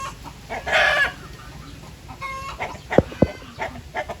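Chickens on a small farm cluck and call, with a burst of squawking near the start and a few sharp clucks later, close by over light background noise.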